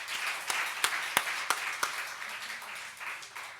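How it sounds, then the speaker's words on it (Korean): Congregation clapping in a church service, a sharp burst of scattered hand claps over a diffuse crowd wash, fading after a few seconds. "믿으시면 감사의 박수 한번 올려봅시다"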